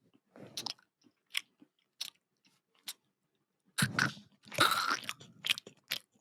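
Close, crisp crunches and bites come in scattered bursts, some single and some clustered, followed by a louder stretch of wet chewing. There is no talking during the chewing.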